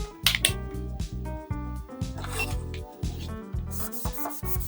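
Inkjet marking being rubbed off a matte cardboard box with alcohol, giving close, rhythmic squeaky rubbing strokes repeated steadily with no talk.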